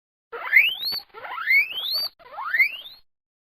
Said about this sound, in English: Very good. Guinea pig.